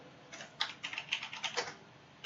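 Keys clatter on a computer keyboard in quick irregular bursts with brief pauses, close and fairly crisp, with no voices.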